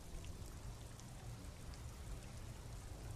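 Steady, dense rain pours over open water in Disco Elysium, a continuous hiss with low rumbling wash underneath, even and unbroken throughout.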